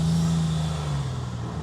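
A modified GMC Typhoon truck's turbocharged engine drones steadily while driving, a loud continuous low hum with a sustained tone throughout and no talking.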